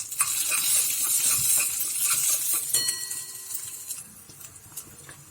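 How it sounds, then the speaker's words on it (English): Chopped garlic frying in a pan, a dense continuous sizzle with light scraping and occasional small metallic clinks of a spoon, gradually quieting toward the end; no one speaks. "Fry it till the garlic become brown."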